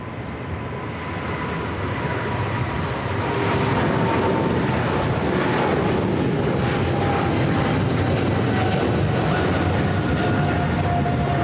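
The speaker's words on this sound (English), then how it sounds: "British Airways 777 now rolling down to 25 right." A British Airways Boeing 777 rolls down the runway at Los Angeles International Airport for takeoff, a loud, steady jet engine roar that swells after a few seconds and holds strong, with no talking.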